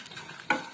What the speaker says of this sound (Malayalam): ഉലുവ ഇട്ട് ഒന്ന് ഇളക്കി കൊടുക്കാം